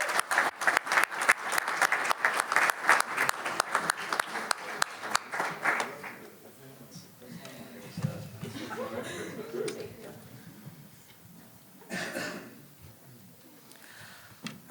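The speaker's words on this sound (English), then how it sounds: "we can give all the teams a big round of applause" Audience applause for the teams at a business case competition: brisk rhythmic clapping for about six seconds, then it fades into murmuring, scattered chuckles and talk from the room.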